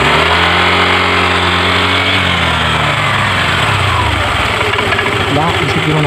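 Engine of a Honda Vario 125 scooter with a leaking radiator, revving up with rising harmonic drone then settling into a rough, loud steady run close by, with a voice talking over it.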